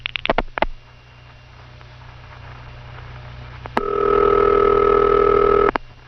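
A rotary telephone is dialed, with a quick run of clicks, then a steady electronic line tone that holds for about two seconds before a sharp click cuts it off.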